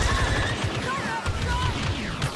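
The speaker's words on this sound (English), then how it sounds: "Stay here and lay down cover fire." Blaster cover fire in Star Wars Battlefront II rattles in a dense, continuous barrage of rapid shots and impacts, loud and close, with a voice faintly mixed in.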